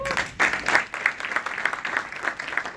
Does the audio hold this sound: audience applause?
yes